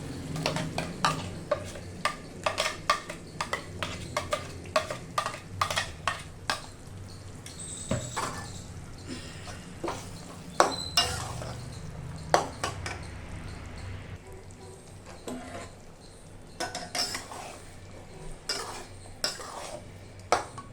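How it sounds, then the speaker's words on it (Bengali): A spoon stirs ground spice paste into simmering chicken korma, scraping and clinking against the pot in a steady run of sharp taps over a soft sizzle of oil, with no talking. "মশলাটা ভালো করে মিলিয়ে নেব।"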